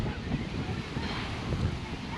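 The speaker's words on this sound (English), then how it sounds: "it is very, very windy today." Strong gusting wind buffeting a microphone outdoors on a weekend day in Russia, a dense low rumble with uneven swells throughout.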